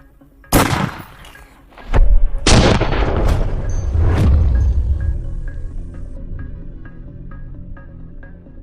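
Rifle fired with cheap 55 grain FMJ range ammunition, two or three loud sharp shots in quick succession with booming echoes and a long rolling decay trailing into quiet.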